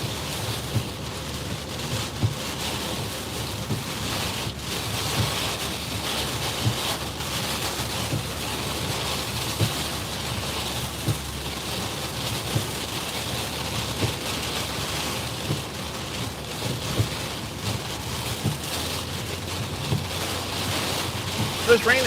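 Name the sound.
tropical storm wind and surf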